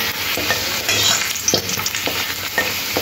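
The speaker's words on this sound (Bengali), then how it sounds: "আলুটা দেখুন লাল লাল করে ভেজে নিয়েছি।" Potato pieces fry in hot oil for a chicken curry, a steady close sizzle punctuated by regular stirring scrapes of a spatula in the pan, with no voices.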